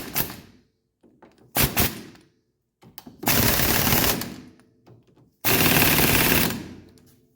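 An impact wrench hammers on a 19 mm bolt during suspension work on a 1985 300D, with short rattling bursts and then two sustained, loud, rapid-fire runs of about a second each, close up and with no talking.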